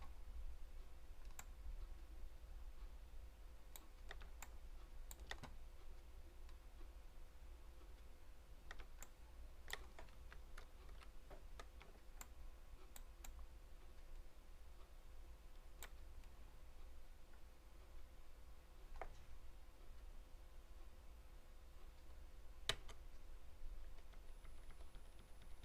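Sparse keyboard shortcut key presses on a computer during Photoshop and Illustrator image work: scattered sharp clicks, sometimes in quick pairs, over a quiet steady room hum, with no talking.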